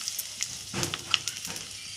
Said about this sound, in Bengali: এখানে মাছের মাথা ভাজছি।